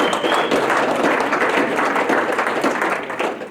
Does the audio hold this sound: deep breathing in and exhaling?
no